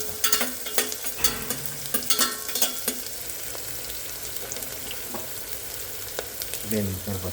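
A vegetable biryani mixture cooks in a pot over a medium flame, making a close, lively sizzle with bursts of bubbling and sharp crackles, busier in the first half and briefly louder near the end.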